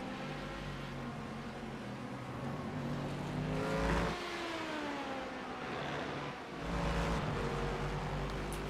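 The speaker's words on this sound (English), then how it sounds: "right on their tails is that LMPC class" LMPC class prototype race cars at Le Mans in a Red Bull Ring–style RLMS race roar past, with loud continuous engine drone and shifting revs, one car's pitch dipping as it passes around the midpoint before another wave of engine noise follows.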